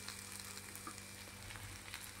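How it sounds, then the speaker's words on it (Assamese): Steady sizzle of frying in a pan while tomatoes are added for a drumstick and mustard tomato curry, a soft continuous crackle close by with no talk. "অলপ ভাজি ল'লোঁ"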